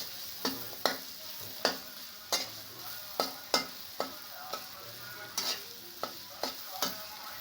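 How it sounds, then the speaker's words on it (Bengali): A spoon stirs potatoes frying in a pan with salt, scraping in about a dozen sharp, regular strokes over a soft continuous sizzle, close and clear with no talk. "দিয়ে আবার নাড়াচাড়া করে নেব।"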